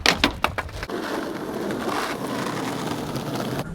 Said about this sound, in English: It's raining a little bit, but it's humid, right?